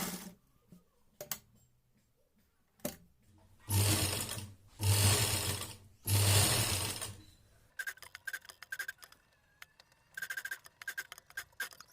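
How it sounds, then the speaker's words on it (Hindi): A sewing machine stitches a round collar along buckram in short bursts, three louder whirring runs separated by pauses, followed by lighter rapid clicking and ticking of the mechanism. "सबसे पहले सेंटर से एक सिलाई लगाएंगे यहाँ पर नीचे, और फिर बिल्कुल बुकरूम के बराबर हम सिलाई लगाते जाएंगे"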